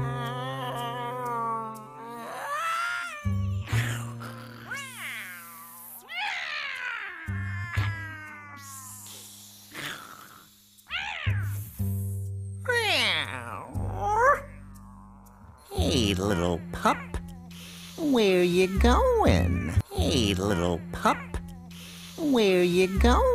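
Cat meows in an English-language anime, several drawn-out, pitch-bending meows over background music and voices.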